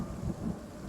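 Steady rain with a low, rumbling roll of thunder, a dense, continuous wash of noise at moderate volume with no voices.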